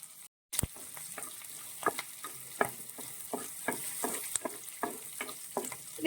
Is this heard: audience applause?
no